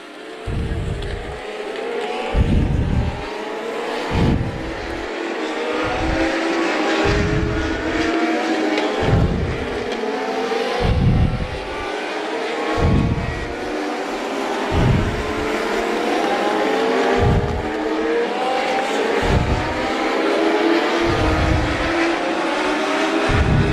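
A field of small race cars at New Hampshire Motor Speedway roars past in a steady stream, each engine surging loud and fading in quick succession over a continuous track drone.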